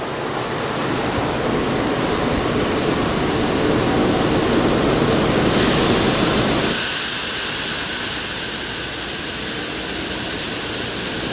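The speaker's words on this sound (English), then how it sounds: "Corn's gonna go up there into that auger and drop down into the bin, where BJ and I will supervise." Grain auger running on a farm bin site while corn pours up it and drops into a bin, a loud, steady roaring rush of machinery and flowing kernels that holds constant with no talk.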